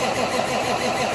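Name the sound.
starter cranking a 1995 cabover Freightliner truck engine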